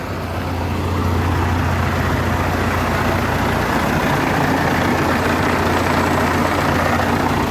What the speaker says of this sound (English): One thing I noticed about a 4-cylinder engine is it vibrates a lot more.